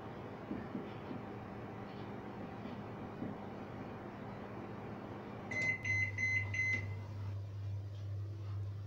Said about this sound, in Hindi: अब हम इसको 5 मिनट के लिए माइक्रोवेव में रखेंगे